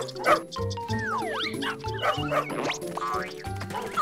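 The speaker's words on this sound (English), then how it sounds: "it's too hot to keep chasing these dogs" Cartoon dogs bark and yip repeatedly in a lively animated park scene, layered with whimpers, whistling slide effects and background music.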